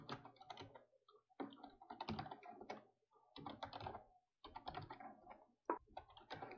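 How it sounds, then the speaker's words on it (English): Login credentials are typed on a computer keyboard in close, crisp bursts of rapid key clicks, separated by short pauses, with no voices. "let's type our login credentials"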